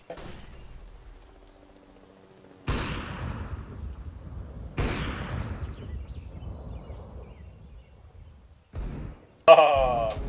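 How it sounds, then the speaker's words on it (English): A flashbang grenade detonating in the shooter game CS:GO on the map Cache, with sharp loud bangs followed by decaying ringing tails, and brief talk near the end. "Deploying flashbang."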